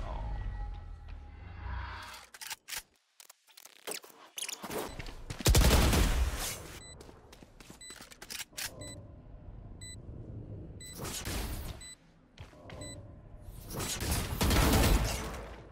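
Gunfire in the tactical shooter Valorant, rapid bursts and single loud shots cracking repeatedly over a busy in-game soundscape with short beeps, some shots close and sharp, others layered in steady firefights across the clip.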